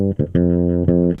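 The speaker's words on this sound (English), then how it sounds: "a Sire Marcus Miller V7 vintage fretless bass" A Sire Marcus Miller V7 vintage fretless bass with flatwound strings, back pickup full and tone up, plays a few held notes, deep and warm with short gaps between them, close and alone.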